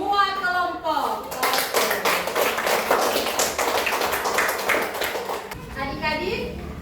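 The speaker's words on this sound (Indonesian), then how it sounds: "Jadi coba mari kita berikan aplaus dulu kepada semua kelompok." A classroom of young students applauds their fellow student groups, a dense burst of many small hands clapping for several seconds with children's voices around it, fading back to someone talking.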